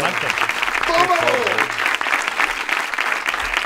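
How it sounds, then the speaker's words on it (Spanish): Studio audience applause on a comedy show, dense continuous clapping with a brief voice rising over it early on. "Un aplauso para el Espinacho."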